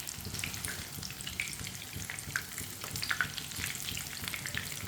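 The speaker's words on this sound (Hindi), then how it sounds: "बैंगनों को हल्की सी आंच पर पकने देते हैं 2 मिनट के लिए।" Eggplant slices frying in a pan over a low flame, a steady crackling sizzle with scattered pops and light stirring scrapes throughout, close and fairly quiet, no voices.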